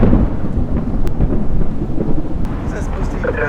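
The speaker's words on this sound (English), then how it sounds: "some storms moved in that would test our resolve" Thunderstorm with heavy rain at a campground during a summer aviation event, deep rumbling thunder rolling continuously under a dense, close hiss of falling rain.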